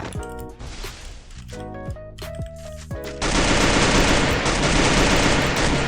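SKS rifle fire in the mobile battle-royale game Free Fire: sharp single shots and short volleys with falling whistling tones, then a loud, continuous, dense barrage of gunfire close by, with no talk.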